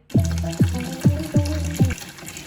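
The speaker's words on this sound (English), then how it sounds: "Start by mixing up your concentrated sugar soap in a bucket and add some warm water." Warm water pours into a bucket in several repeated gushes, each starting with a sharp splash and settling into a gurgling fill, loud and close.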